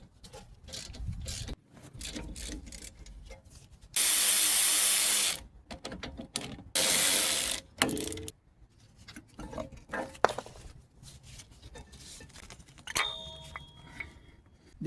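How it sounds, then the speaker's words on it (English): A ratchet with a 7mm Allen socket works loose the brake caliper slide pins on a Mercedes ML350, making close ticking clicks and metallic taps, with two longer bursts of hissing noise midway. "This is a 7mm Allen socket, as you can see here. This is to take out the two slide pins here."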